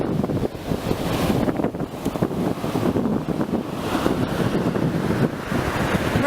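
Ocean surf and strong wind at a beach, a steady roar of crashing waves under heavy wind buffeting on the microphone, with no talking.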